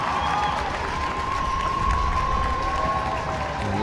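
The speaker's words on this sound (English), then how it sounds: "you'll hear the applause from the crowd as both sides come out" A rugby crowd applauds as both teams run out for a women's match between The Thistles and Combined Provinces XV, a continuous distant stadium roar of clapping and cheering with a faint tone running through it.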